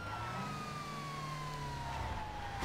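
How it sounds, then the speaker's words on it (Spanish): Police siren from a Spanish National Police unit in the video game GTA V with the LSPDFR mod, a steady descending wail sustained over a continuous engine and road rumble, loud and close throughout. "Vamos a poner las sirenas aquí."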